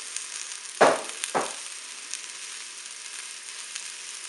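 Potato pieces go into a hot Cookeo pot, setting off two short, loud sizzling bursts that fade into a faint steady frying hiss, with no talking.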